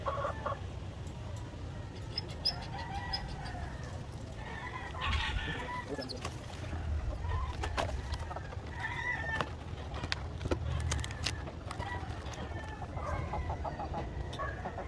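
White Leghorn cross and Black Australorp chickens clucking on and off at close range over a steady low rumble, with scattered short calls and some background rustling.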